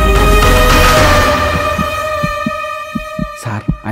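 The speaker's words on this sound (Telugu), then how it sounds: "అది నా గుండె చప్పుడురా." A heartbeat sound effect in a Telugu action thriller film: slow, evenly spaced low thumps that emerge from a sustained musical drone and grow more distinct toward the end.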